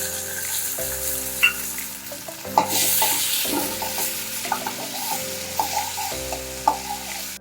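Chopped tomatoes sizzle and fry in a hot pan with green chilies while a spoon stirs and scrapes steadily, a continuous close crackle with recurring clatters and no talking.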